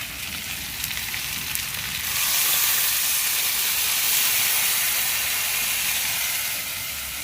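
Curry frying in a pan roars into louder, brighter sizzling as water is poured in, then a dense, even hiss of steam and bubbling carries on steadily and close by.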